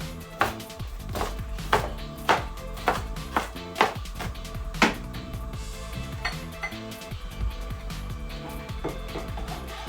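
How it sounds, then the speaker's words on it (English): Knife dicing vegetables into small cubes on a cutting board while Jamaican stew peas cook, about eight sharp close chops in an uneven rhythm over the first five seconds, then softer scraping and kitchen clatter. "gonna dice everything up in small cubes"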